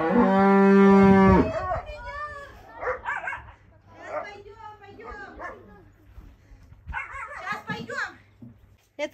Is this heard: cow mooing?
yes